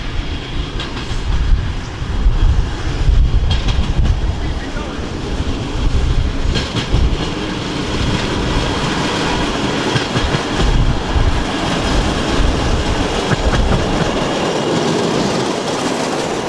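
A train on a railway branch line passes close by, a loud sustained rumble with clattering wheels and some squealing that fades slightly toward the end, with no clear talk over it.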